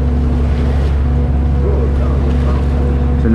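A steady low engine drone from a motorboat taxi on open water, continuous and fairly close, with wind and water wash around it and no talking.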